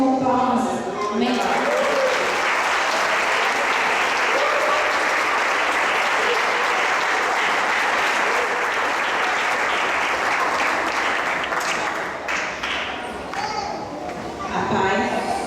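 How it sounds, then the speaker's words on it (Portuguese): Church congregation applauding in praise during a Portuguese-language service, a loud, dense, sustained clapping that holds steady for about fifteen seconds, with a few voices rising near the end. "Você pode exaltar o nome do Senhor com palmas."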